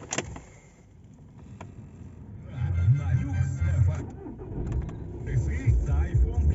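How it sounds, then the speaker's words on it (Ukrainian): A 2015 Volkswagen Jetta with a 2.0 TDI diesel engine cranks and fires up, then settles into a steady, low, even idle close by, with someone talking over it. "Заводиться все чудово робить рівненько."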